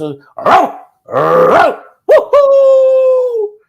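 A person imitates a dog, giving a few short barking yelps and then a long, steady howl-like bark, loud and close.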